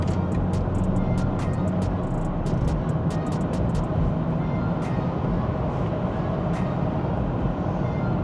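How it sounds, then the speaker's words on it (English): Steady broadband roar of tire noise with some wing-mirror wind rush inside a 2019 BMW 330i xDrive cruising at 130 km/h on a Romanian road, constant and enveloping with no voices. "It starts to get a bit noisy from the wing mirrors, but mostly is the tire noise"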